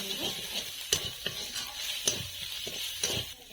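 Ginger, garlic, turmeric and chili powder sizzle in a pan while a utensil stirs them, giving a low steady frying hiss broken by several sharp scrapes and clinks at irregular moments.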